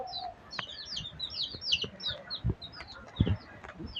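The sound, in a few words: chickens clucking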